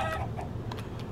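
Chickens in the video game Minecraft cluck in short soft bursts over a low rumbling background, faint and close together.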